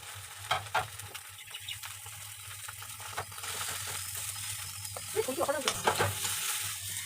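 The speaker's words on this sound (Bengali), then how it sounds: "ঝপঝপ রান্নাটা করে ফেলি" Vegetables such as dal and fried teasel gourd sizzling in a pan while being stirred, with steady frying hiss and intermittent scraping clatters of the spoon, close and moderately loud, no talking.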